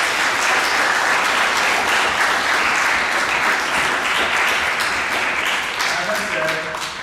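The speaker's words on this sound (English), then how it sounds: "Give the girls team a round of applause." Applause for a girls' sports team at a middle school awards assembly: a crowd claps loudly and continuously for several seconds, with faint voices mixed in, tapering slightly at the close.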